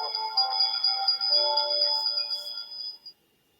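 A bell rings inside the Haunted Mansion ride at Walt Disney World, a sustained, clear metallic ringing that holds steady for about three seconds before stopping abruptly.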